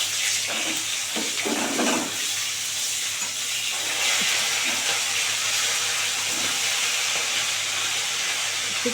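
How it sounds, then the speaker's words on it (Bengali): Fish frying in hot oil in a pan over lowered gas, a steady close hiss and sizzle running throughout with a few soft crackles early on. "তেল গরম হয়ে গেছে এবার মাছটা দিয়ে দেবো"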